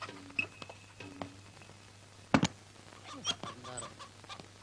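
A chicken clucks in a few short, separate bursts with brief pauses between, fairly close and moderately loud, with one sharp louder call partway through; no one speaks over it.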